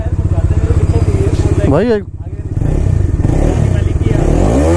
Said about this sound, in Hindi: इसका एग्जॉस्ट तो बड़ा अच्छा है यार, डोमिनार 250 का है